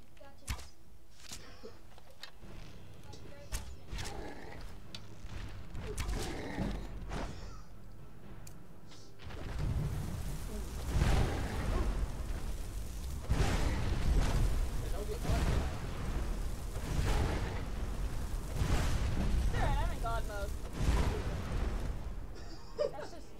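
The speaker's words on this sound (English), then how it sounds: "Again, alright, so explosions." Booming explosions from the video game Skyrim, heavy and repeated, some rumbling low for seconds, mixed with a player talking throughout over the game audio.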